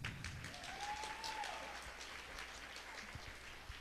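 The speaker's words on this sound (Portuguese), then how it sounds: "com os aplausos de vocês." Applause from an audience at a fiftieth birthday celebration, soft and distant, as an even patter of clapping that continues steadily throughout.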